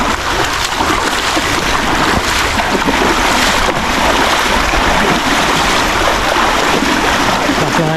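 Strong, fast river current rushing steadily as broadband water noise, with wind buffeting the microphone, during a risky riverside fishing outing in a forest.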